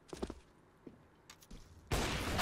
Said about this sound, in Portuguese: Caramba, Fallen errou o tiro.